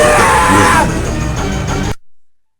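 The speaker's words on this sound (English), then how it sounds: "the opponent screams in the process, which must mean it hurts like crazy to be a mutant hot dog" An opponent in the video game Tattoo Assassins screams loudly while being turned into a giant running hot dog during a fatality, a harsh sustained yell lasting about two seconds before cutting off abruptly.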